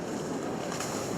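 Mercury outboard engines drive a Zar 57 welldeck boat at about 4,500 revs with a little trim, a steady broadband roar mixed with wind and water rush, continuous and fairly close, with no talking.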